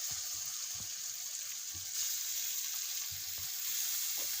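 Chicken frying in a wok with spices and mango leaves, a steady dense sizzle throughout with occasional soft stirring scrapes, close and moderately loud, no talking.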